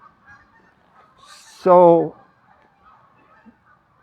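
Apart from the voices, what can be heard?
geese honking in the background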